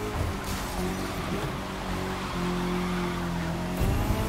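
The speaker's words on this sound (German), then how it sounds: "die Reifengeräusche sind manchmal ein bisschen komisch, aber alles gut" Tires squeal on a Renault Megane during a race in The Crew 2, a steady engine drone with sustained screeching tones running almost continuously throughout.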